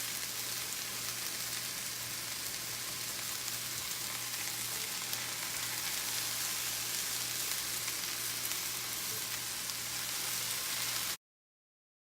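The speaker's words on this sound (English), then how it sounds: "So we're just gonna stir fry before we add our seasoning." Vegetables stir frying in a non-stick pan give a constant, even hiss of sizzling oil with no pauses, close and steady until it cuts off abruptly near the end.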